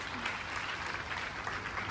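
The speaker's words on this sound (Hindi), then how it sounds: "जोरदार तालियां इनके लिए मिलनी चाहिए।" Audience applause at a public event in India, a steady dense wash of clapping held at moderate level for about two seconds with no break.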